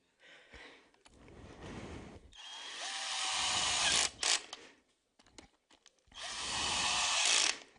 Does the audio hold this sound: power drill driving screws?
yes